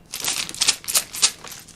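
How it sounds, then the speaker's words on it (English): Metal board game coins from a freshly unboxed game clink together as they are handled, a quick series of bright, close metallic taps and jingles lasting under two seconds, with no talking. "Beautiful coins."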